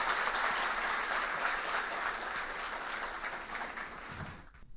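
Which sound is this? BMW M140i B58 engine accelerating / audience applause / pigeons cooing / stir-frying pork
audience applause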